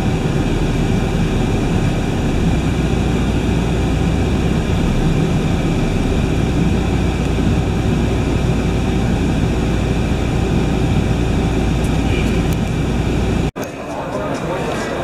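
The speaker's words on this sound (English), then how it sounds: "here we are at the airport" Steady low engine rumble of aircraft fills an airport, a continuous loud drone that holds evenly before cutting off abruptly near the end, with a quieter, hissier ambience after.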